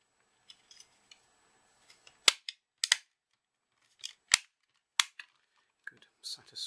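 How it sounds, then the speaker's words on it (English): Plastic casing of an infrared TV remote control being clipped back together, a series of sharp, close snapping clicks, some single and some doubled, with quiet pauses between them. "So we'll start clipping it back together."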